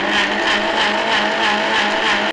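A kitchen mixer grinder coarsely grinds almonds for badam kheer, giving a loud, continuous whirring with a slight pulsing rhythm throughout. No one speaks.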